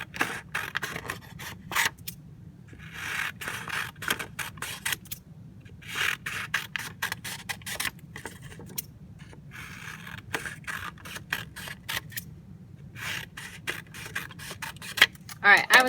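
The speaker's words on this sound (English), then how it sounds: "if you just kind of want to cut it into a bunch of vertical strips that are thinner than 1 inch, that's fine." Scissors cut paper into thin vertical strips for paper weaving. The scraping snips come in short bursts at an uneven rhythm, close and fairly quiet.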